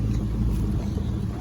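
Factory Chevrolet Avalanche engine revving under load while pulling a lifted Tahoe out of a deep mud pit, a steady low droning rumble with wind buffeting the microphone, continuous and fairly close.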